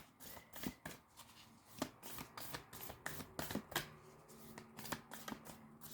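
Dream Gate oracle cards being shuffled by hand, a run of crisp riffling and slapping bursts repeating in an uneven rhythm, close and fairly quiet, with no talking.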